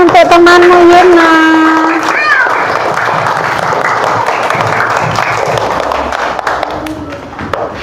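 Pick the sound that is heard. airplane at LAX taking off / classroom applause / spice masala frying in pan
classroom applause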